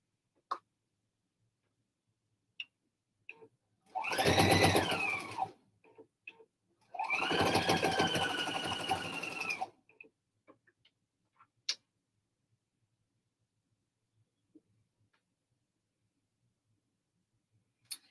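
A sewing machine stitches a 3/8 inch seam along the edge of the presser foot in two steady bursts of rapid mechanical chatter, each about two seconds long, close up, with scattered faint clicks between them.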